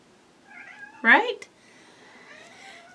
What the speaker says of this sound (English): is down on the floor, meowing at me